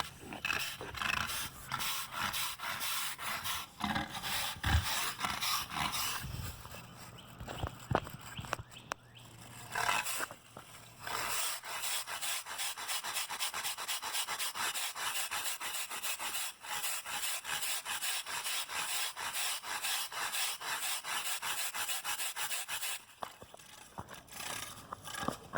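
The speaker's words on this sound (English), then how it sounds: "we're going to use a wire brush" A wire brush scrubs Bio Dry absorbent into an asphalt surface with a fluid spill, a close, steady rhythmic rasping of quick back-and-forth strokes that continues with brief pauses; no talking.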